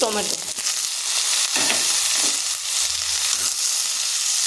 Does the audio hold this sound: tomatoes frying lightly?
yes